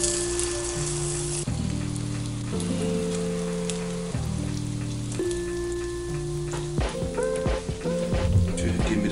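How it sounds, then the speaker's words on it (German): Thin chorizo slices sizzle briefly in a frying pan, a steady crackling hiss sitting beneath louder melodic background music. "Nur für einen ganz kleinen Moment in die Pfanne."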